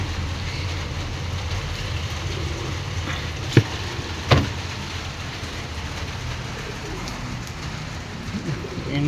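Pigeons coo softly under overcast weather, low and murmuring against a steady background hiss, with two sharp clicks partway through.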